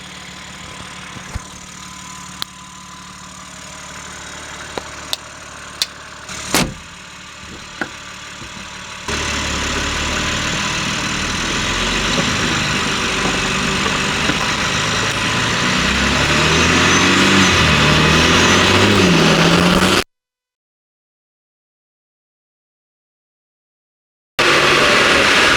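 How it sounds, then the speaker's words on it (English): A BMW M3 fitted with titanium front-mount intakes, recorded in the engine bay: a few sharp clicks, then a loud steady idle rumble that builds, cuts out briefly and returns. "So that's how it sounds in the engine bay."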